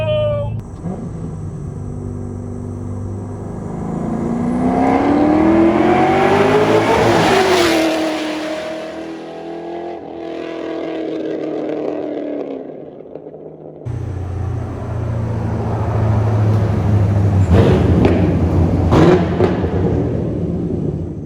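Drift car engine revving hard and chopping on a rough idle while driving on the 75 south highway, loud and close with surging acceleration sweeps, a brief lull, then more throttle.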